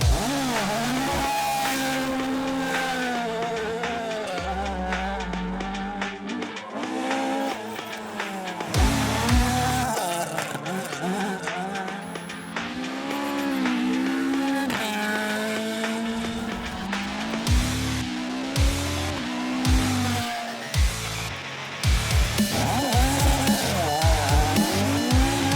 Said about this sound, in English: rank Kelly, who's about to take to the tar in his famous Mark II Escort